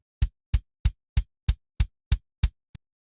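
Eight evenly spaced kick drum hits from a black metal song's kick track, with deep low thumps and a short click on top, followed by a softer ninth hit, isolated with silence between.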